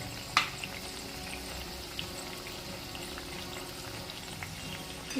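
Stale chapati pieces fry in hot oil, a faint steady bubbling sizzle throughout with an occasional small clink.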